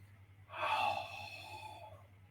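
One slow, deep breath drawn in through the open throat and released, close and soft, with no talking over it.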